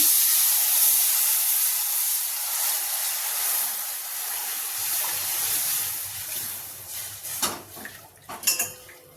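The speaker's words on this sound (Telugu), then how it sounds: "నీళ్లు వేడైనవి ఇప్పుడు కొంచెం కొంచెంగా పోసుకుందాం ఒకేసారి పోసుకోకండి" Hot water poured little by little into roasted semolina in a pan for rava kesari, a steady hissing pour with steam and sizzle, rising into louder splashing bursts near the end, with no voices.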